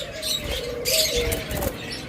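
Pet lovebirds and cockatiels in a cage at a bird sale, giving short high chirps and soft cooing calls close by, with no talk.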